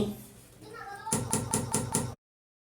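Five quick knocks on a bathroom wall, tapping to locate the path of the water pipes, follow a stretch of low voice and background noise; close and fairly loud, then silence.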